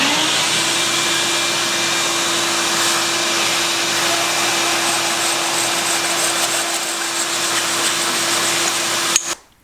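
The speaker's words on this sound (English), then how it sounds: "then I'll turn on my shop vac and make my cut" A shop vac roars steadily and close throughout while a carbon bicycle steer tube is cut, the cutting lost under the drone, then the machine switches off abruptly at the end.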